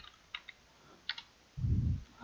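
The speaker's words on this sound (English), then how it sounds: "let's try typing the command" Computer keyboard typing for a Minecraft command: a few light, sparse key clicks in quiet, followed by a short louder low thump near the end.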